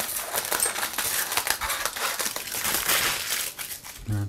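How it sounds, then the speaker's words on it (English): Eco-friendly kitchen foil is trimmed with scissors around a Christmas pudding basin, a continuous close crinkling and snipping rustle with no talking. "Now the last thing I need to do is fold this up and trim it."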